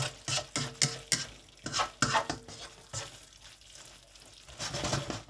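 Chicken malai with cream being stirred in a pan over low heat, a string of quick scraping spoon strokes against the metal with a soft sizzle underneath, then a brief quieter pause before the stirring resumes.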